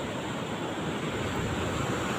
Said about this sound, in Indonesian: Ini sebenarnya kondisi ombaknya sangat bagus.